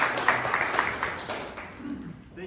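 Audience in a room applauding after a jazz fusion guitar ensemble performance: a brief, moderate burst of clapping that thins and fades out within a couple of seconds, with a voice murmuring underneath.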